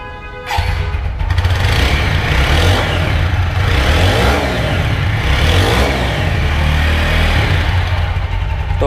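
A TVS Apache RTR 4V 160 motorcycle engine catches after a brief quiet moment, then revs loudly and continuously up close, its throaty drone rising and falling with throttle blips for several seconds.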